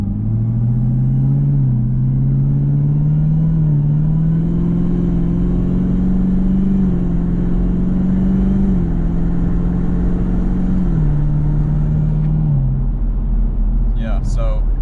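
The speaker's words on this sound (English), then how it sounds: "once it starts getting up a little bit, it definitely turns into that throaty intake noise" ZL1 Camaro with a cold air intake, its engine droning low and steady near the microphone, the pitch stepping up and down a few times as it revs into a throaty intake note; a brief faint sound near the end.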